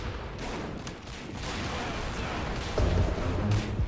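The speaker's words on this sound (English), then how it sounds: "Got a handful of blues shooting on those reds in the centre." A plastic toy-soldier battle in the Army Men video game, blue troops firing on red ones, sets off a continuous dense rattle of distant gunfire with heavier bursts near the end.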